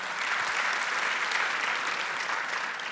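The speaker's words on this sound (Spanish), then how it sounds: "Denle un aplauso al Señor" Steady, dense applause from a church congregation during a sermon, an even wash of clapping throughout at moderate level.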